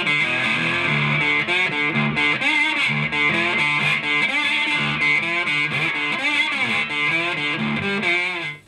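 Electric guitar through a Wampler Tweed 57 overdrive pedal, bass turned out, plays a trebly, thin-toned riff, distorted and bright, continuous for several seconds and no voices.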